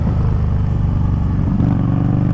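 Harley-Davidson Street Rod 750 motorcycle riding through corners, with a steady low engine drone and rumble up close, continuous and fairly loud throughout, with no talking.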